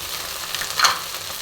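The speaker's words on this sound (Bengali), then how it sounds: "তো এবার আমি আবার নাড়বো।" Ground cumin, coriander, chilli and turmeric stirring as they fry in oil in a pan for panch phoron chicken, a soft steady sizzle with one brief louder scrape of the spoon midway.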